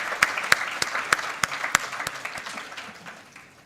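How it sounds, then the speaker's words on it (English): Audience applause at a book launch, with a few loud distinct claps standing out over a scattered clapping bed that thins and fades toward the end. "Let's have a round of applause"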